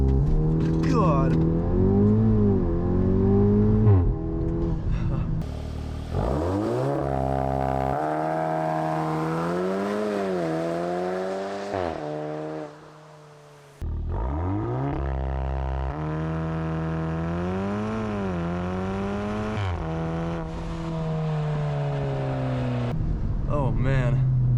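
A 2019 VW Mk7.5 Golf R does a launch control start, its engine revving hard and climbing through several gears with brief dips at each shift, loud and close, before easing off and pulling again.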